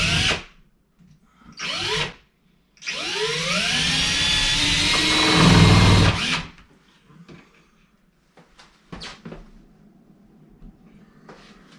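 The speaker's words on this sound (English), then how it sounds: "This needs to be re-drilled at a slight angle so that it'll be sure to hit the stud." A power drill re-drills a door hinge screw hole into wood. Two short revs are followed by a loud, sustained drilling run with rising whine, then scattered clicks and handling knocks.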